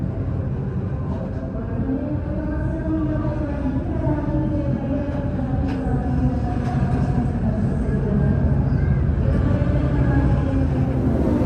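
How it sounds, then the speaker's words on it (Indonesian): The Kaligung passenger train rumbles loudly and steadily as it arrives on track 1 at Semarang Poncol station, with low droning and faint squeals as it rolls slowly along the track. "Keretanya masuk di jalur 1 stasiun Semarang Poncol."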